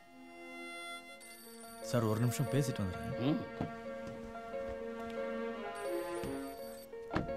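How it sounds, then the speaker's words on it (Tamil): A telephone rings repeatedly in a scene from the Tamil film Oru Naal Iravil, the ringing steady beneath background music while someone speaks briefly over it. "phone phone"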